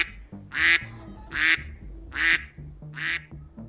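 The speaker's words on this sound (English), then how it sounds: "I did not expect the duck quack to be that long." Four loud, drawn-out duck quacks play as a sound effect on a video game livestream, each honk evenly spaced and clear with nothing else over them.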